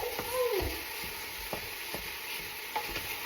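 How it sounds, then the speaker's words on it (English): A wooden spoon mashing and stirring ground beef in a frying pan, a series of distinct scraping knocks spaced about half a second apart over a soft sizzle. "you're going to mush that ground beef all up"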